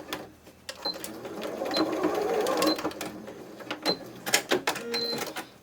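A sewing machine stitches the curved ear and head of a fabric toy bunny, running in a steady whirring burst for a few seconds, then in shorter stop-start runs with small clicks between them. No one speaks.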